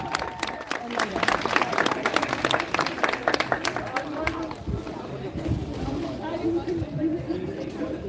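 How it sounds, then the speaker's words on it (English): Graduating students are applauded at the John F Kennedy BASP graduation with lively crowd clapping that dominates the first half, then gives way to chatter and voices as it trails off. "Let's give them a nice round of applause."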